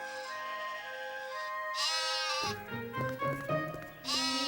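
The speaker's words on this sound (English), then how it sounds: "looking after a flock of sheep up in the hills" Sheep bleat repeatedly, several wavering calls close by, some overlapping, with one loud bleat at the end.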